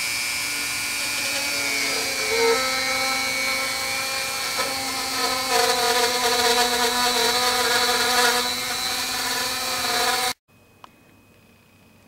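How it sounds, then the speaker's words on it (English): A Dremel rotary tool routes an inlay pocket into a guitar headstock, whining loud and steady at high speed with shifting tones as it cuts, then cutting off abruptly near the end. "I routed close to the lines, as close as I could with the Dremel tool"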